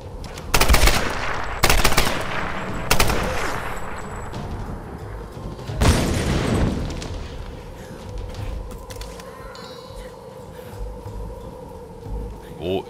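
Rapid video game gunfire from Tomb Raider Definitive Edition, several sharp loud bursts in quick succession early on, then a heavy blast followed by a fading rumble and quieter ambient shots, with someone talking intermittently.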